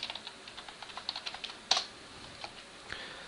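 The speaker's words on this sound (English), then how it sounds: "I'm just going to type it up in the address bar." Rapid bursts of keystrokes on a computer keyboard as a web address is entered, close and clear with one sharper key hit partway through, no talking.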